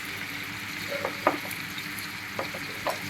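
Raw banana curry with turmeric and salt fries in a pan, a continuous close sizzle broken by a few spatula scrapes and taps as the pieces are stirred.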